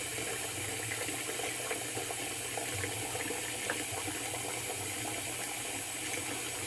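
A tap runs steadily in the background while shaving lather is worked up, with faint scratchy brushing over the even wash of water.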